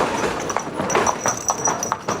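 A horse's hooves clip-clop at a steady walking rhythm, fairly close and loud over a noisy background.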